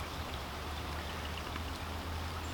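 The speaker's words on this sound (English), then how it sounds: "It's raining a lot out there." Steady hiss of heavy rain falling outside, heard from under a bridge, faint and even throughout with no voices.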